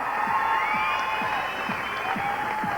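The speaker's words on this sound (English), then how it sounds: "give this man a big round of applause" A live audience applauds a performer after a stunning act, with steady, dense clapping and scattered cheers filling the hall at close range.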